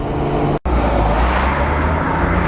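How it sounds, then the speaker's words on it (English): A Volkswagen VR6 car engine drones loudly and steadily from inside the cabin, a constant low rumble broken by a brief cutout near the start. "Man, that car sounds good."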